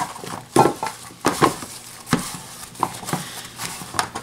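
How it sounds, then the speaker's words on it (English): A knife chops through smoked chuck roast into bite-sized pieces on a board, giving irregular soft thuds and knocks spaced a fraction of a second apart, close and moderately loud. "Cut her in bite-sized pieces, folks."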